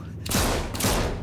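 A rapid burst of gunfire in The Walking Dead: The Final Season, two loud, close volleys of shots roughly half a second apart, filling the whole short moment with sharp blasts.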